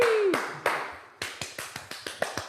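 Sharp, uneven claps from an audience ring out in a loose burst, a whoop-like voice sliding in at the start before the scattered hand claps continue on their own.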